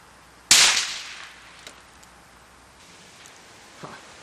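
Ranger .22 rifle with a long barrel firing a long rifle round outdoors, one sharp close crack that decays quickly, followed by faint small clicks and a soft knock.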